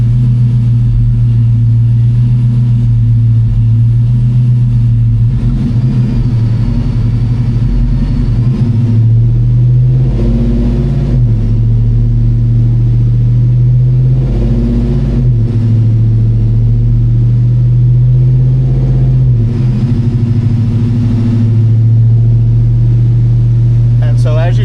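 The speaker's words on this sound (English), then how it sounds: "as I hit the accelerator and take it up to speed" Car engine held at steady load on a Mainline Prohub dyno locked near 1600, a loud constant low rumble with slight surges in pitch, while someone talks over it.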